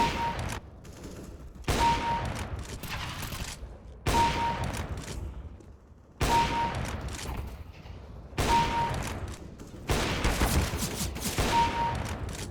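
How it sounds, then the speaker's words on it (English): Six loud AWP sniper rifle no-scope shots from Counter-Strike: Global Offensive, each a sharp booming crack with a long ringing tail, fired roughly every two seconds at close range. "Starting with the AWP, obviously it does become even more of a death cannon without the need to scope in"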